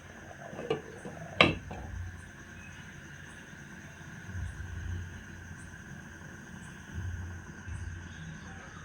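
A metal lid lands on a cooking pot with one sharp clink, following a lighter tap, while a low gas flame simmers beneath and faint kitchen clatter drifts in and out.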